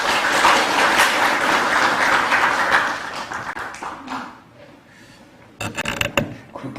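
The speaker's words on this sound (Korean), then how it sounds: "큰 박수를 모시겠습니다." Applause at the opening of a National Assembly forum on rice policy in Korea, a dense burst of clapping that fades after a few seconds, followed by a quiet pause and then scattered claps and handling noises.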